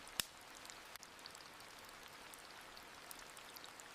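Steady soft rain patter with faint scattered drips and a couple of sharp ticks, quiet and continuous throughout.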